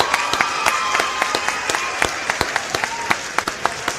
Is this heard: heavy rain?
no